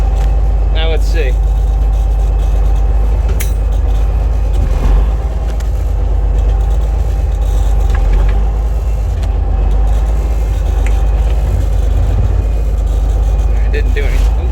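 A 1987 Freightliner FL86 truck with a Cummins Big Cam diesel runs loudly up close, a deep steady rumble throughout, with people talking over it and a few brief clanks.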